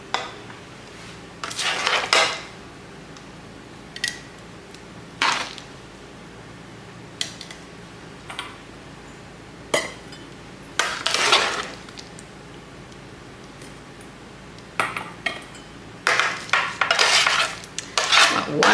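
Onions are spooned on top of beef and broth in home canning jars: sporadic clinks of a metal spoon against glass and scraping of pots, in bursts separated by quiet gaps.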